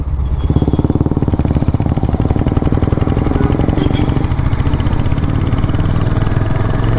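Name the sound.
Royal Enfield Hunter 350cc motorcycle engine pulling in second gear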